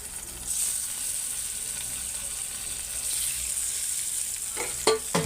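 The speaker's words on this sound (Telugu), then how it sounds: "వీటిని అయితే మనం కలర్ మారేంత వరకు అయితే ఫ్రై చేసుకున్నామండి" Eggs frying with onions in a pan, a steady close sizzle with stirring and a few sharp scraping clacks of the spatula near the end.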